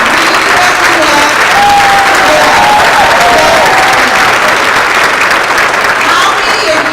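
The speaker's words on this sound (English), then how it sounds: "How about giving a wonderful round of applause to Ms. Karen King?" Audience members at a COMTO transportation conference give sustained, loud applause, a dense wash of clapping hands that continues unbroken for the whole stretch.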